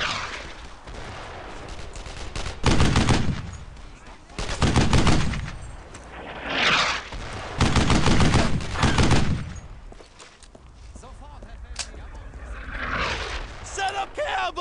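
Several loud bursts of rifle and machine-gun fire crackle in the WWII shooter game Brothers in Arms: Earned in Blood, coming in separate volleys with short pauses between, mixed with shouted commands.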